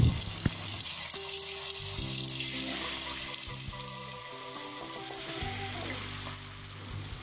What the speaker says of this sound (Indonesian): masukkan 2 sendok makan cabai halus ke dalam minyak yang sudah dipanaskan